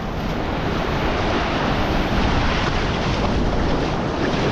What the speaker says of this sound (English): my legs are getting soaked by these waves